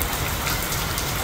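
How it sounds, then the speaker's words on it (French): Big raindrops fall steadily onto wet asphalt road, a dense, even hiss of rain up close with no pauses and no voices. "L'eau de pluie qui tombe là, tu vois les grosses gouttes."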